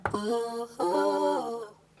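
A sung vocal line through an MPC harmonizer effect with a synthetic, robotic harmonized timbre, two sustained phrases with stacked, rigid pitches, heard alone and up close.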